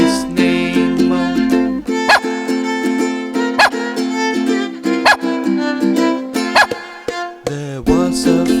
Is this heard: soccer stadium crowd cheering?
no